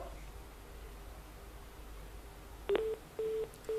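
Telephone line after a phone-in call is cut off: faint line hiss, then a click and three short, evenly spaced beeps near the end.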